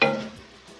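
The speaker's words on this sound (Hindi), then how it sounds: "इसको हम इसमें फ्राई करेंगे थोड़ा सा।" Potatoes fry in a pan for a Simla mirch and aloo dish, giving a brief, close sizzle with a stirring scrape that quickly fades to a low hiss.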